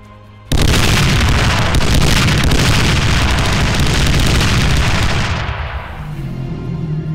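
Artillery ICM rounds explode in VBS3 as a sudden loud barrage of overlapping blasts and crackling detonations, sustained for several seconds before thinning into a lower rumble.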